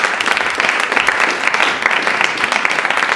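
Steady, dense applause from a theater audience for Julia Jarcho rolls on loud and continuous, with many hands clapping at once and no pauses.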